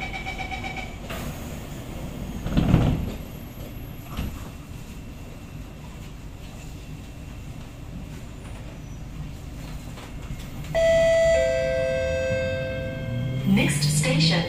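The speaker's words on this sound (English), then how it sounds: "doors are closing." Low rumble fills an SMRT C751B metro carriage between Bukit Batok and Jurong East, Singapore, then a steady electronic door-closing chime of sustained tones rings out clearly near the end.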